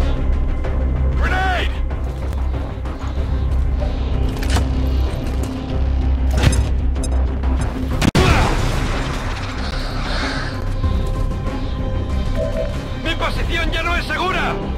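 A grenade goes off in the video game XCOM 2 with a sudden booming burst midway, surrounded by mechanical clanks, game effects and soldiers' voices talking throughout.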